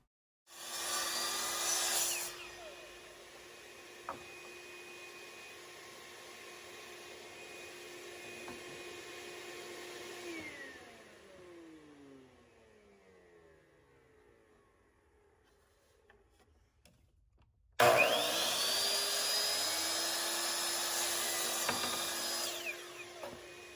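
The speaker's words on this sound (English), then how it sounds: "I'm just trying to use the miter saw to try to figure out where the flattest part is" Miter saw cutting a piece of wood, a loud motor whine that spins down after a cut, a long quiet stretch, then the motor starting again with a high-pitched screeching cut, no speech.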